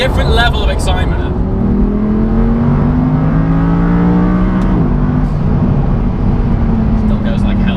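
Porsche 991 GT3 engine pulling hard under acceleration, a loud continuous rising drone heard from inside the car, with someone talking over it throughout.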